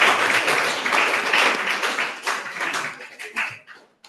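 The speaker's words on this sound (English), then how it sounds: "We'll clap it up for them." Audience at a university student club's résumé-review panel event clapping for the panelists, a dense sustained round of applause that thins into a few scattered claps and fades out.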